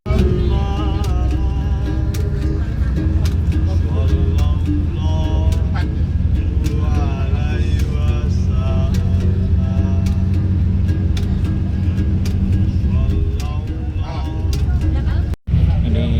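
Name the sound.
riding inside a bus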